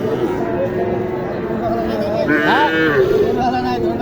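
Cattle low and moo close by at a crowded livestock market for bulls and calves in Naogaon, Bangladesh, over a steady murmur of people chattering.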